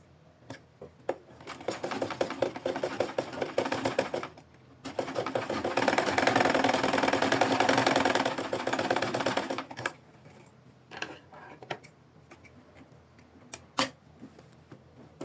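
A sewing machine stitches a V shape along a handmade necktie, starting with a few short bursts, then a steady run of rapid needle clatter for several seconds before easing into scattered stops and starts; no talking.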